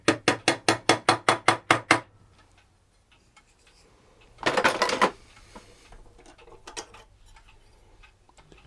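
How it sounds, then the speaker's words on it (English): Sharp, evenly spaced taps of a nylon-faced hammer seating a brass bushing into an Ansonia clock movement, about nine quick strikes in a row, close and clear, followed by a brief rustle and a few softer knocks. "Now you just have a nylon faced hammer here that I can use to tap it down."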